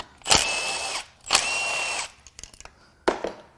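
A power tool unbolts parts from a 2022 Audi S5 3.0 engine during a teardown after a catastrophic overheat: two sustained close whirring bursts, a few small clicks, then a short third burst.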